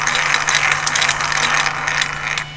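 A homemade marble machine runs nearby with a busy, continuous ratcheting clatter of gears and pawls, the clicking rapid and fairly loud throughout before easing slightly at the end.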